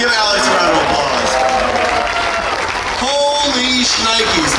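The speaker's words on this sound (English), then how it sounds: "Everybody, give Alex a round of applause." Applause and cheering from a crowd at the 2024 Wisconsin State Fair celebrity cream puff eating contest fill the clip, loud and continuous, with voices talking over the clapping.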